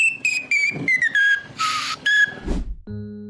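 A whistle is blown in a quick run of short, shrill toots that slide slightly in pitch. A breathy hiss and a low thump follow, then a brief hum, with no speech.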